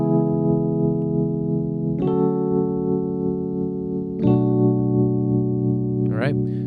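Sustained R&B piano chords from a progression, held with the D dropped from the left hand, changing about every two seconds with a few soft note onsets, close and steady, with no talking.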